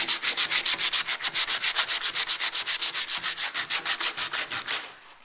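Fiberglass being sanded by hand with coarse 80 grit sandpaper, a steady run of about thirty rapid, even rasping strokes, close and loud, with no talking.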